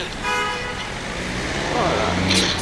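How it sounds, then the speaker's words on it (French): Road traffic at a rainy bus stop, with passing cars and a brief honk of a car horn, heard steadily behind someone talking on the phone. "je suis à l'arrêt d'un bus, il y a une circulation, il pleut"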